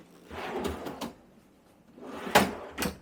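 Wooden drawers with full-extension hardware in a 2005 Country Coach Magna motorhome slide open and shut a few times, with soft rolling runs ending in light knocks, close by and with no voices.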